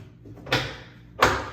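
A shop-built cabinet door opened twice, each a short, fairly loud broadband swish or clack at about half a second and again near 1.2 seconds, close by with no talking.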